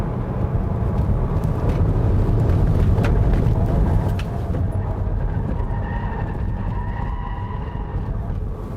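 A Citroen C5 Aircross 2.0 BlueHDi diesel SUV cornering in sport mode on 205-width tires, a loud steady interior rumble of engine and road noise that eases slightly partway through, with faint tire squeal tones later.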